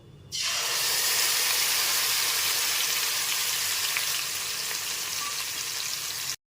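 A paste of ginger, green chili, tomato and onion hits hot oil in a pan and bursts into a loud, steady sizzle that eases slightly before cutting off abruptly, with no talk.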